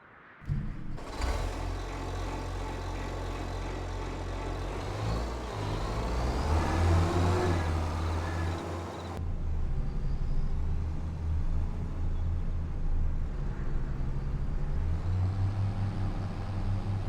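Tractor engine in Farming Simulator 25 video game, a steady loud diesel drone that rises and revs midway, with shifting tone as it drives, continuing throughout.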